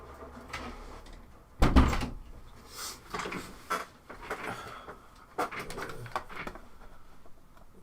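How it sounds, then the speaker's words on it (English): An indoor door swinging shut with one solid thud, followed by a few quieter knocks and bumps nearby. "Close this door."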